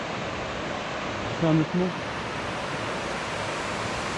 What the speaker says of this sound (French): On a une autre petite cascade dont j'ai complètement oublié le nom